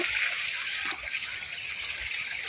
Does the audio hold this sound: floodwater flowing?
yes